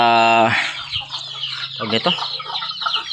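A free-range hen clucks beside her chicks, beginning with a loud, drawn-out call and then breaking into close, repeated short clucks over faint background noise.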